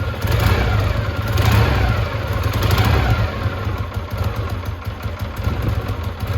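A 1953 Triumph Thunderbird motorcycle engine runs loud and close, a rough, continuous throbbing idle with slight swells of revving throughout.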